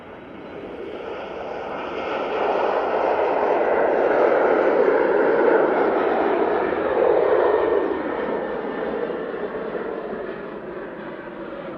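A jet airliner departing Manchester Airport, its engine roar swelling to a broad loud rumble midway and then slowly fading as it climbs away.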